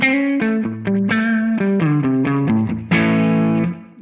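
Distorted electric guitar run through a Tonex 1.8 Spring 4 reverb, playing a quick melodic line of picked notes that ends on a held chord, with a spring-style tail washing under each note.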